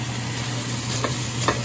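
Beef and broccoli frying in a pan, giving a steady broadband sizzle with a low hum beneath and a couple of brief spattering pops near the end.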